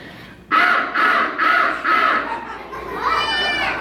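A pet parrot lets out a series of loud, harsh squawks close by, four strong bursts in a row followed by a rising, wavering screech.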